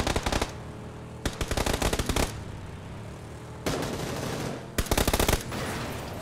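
Gunfire in the video game PUBG: several loud, rapid automatic bursts separated by brief pauses over a steady background rumble, with no voices.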